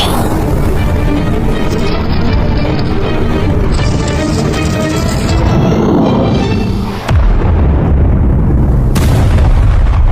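Suicide skeletons blowing up enemies in an anime battle, a dense, loud, continuous barrage of booming explosions and crackling blasts with a brief dip before the rumbling resumes.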